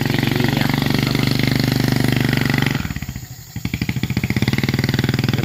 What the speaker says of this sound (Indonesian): ini sistem langsiran kita menggunakan motor seperti ini